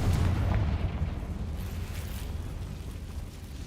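Confringo fire spell explosions in Hogwarts Legacy, a heavy, rumbling blast that is loudest at the start and then settles into a sustained roaring boom. No voices are heard.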